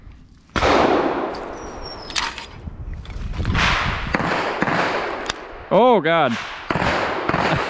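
Handgun shots with an Olight PLX weapon light mounted, several sharp loud cracks spaced irregularly outdoors, with a man's brief exclamation and talk between them.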